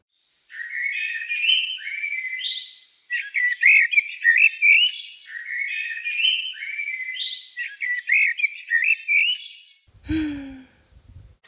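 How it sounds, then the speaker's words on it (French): A blackbird sings rich, mellow warbled phrases separated by short pauses, clear and close, followed by a brief burst of rustling noise at the end. "Merle noir."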